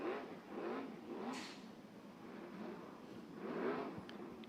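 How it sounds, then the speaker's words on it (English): Race car engines revving at Skagit Speedway, a short-track dirt oval, heard from a distance as several swelling, fading engine roars over crowd ambience. "Can hear them revving the engines and starting to get some speed."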